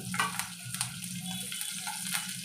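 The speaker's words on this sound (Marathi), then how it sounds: "तेल आपलं तापलं आहे तिथे मी दोन मिरच्या घेतल्यात बारीक चिरून" Finely chopped green chillies dropped into hot oil in a pan, a steady low sizzle and crackle with a few sharper pops and stirring clatters, fairly quiet with no talking.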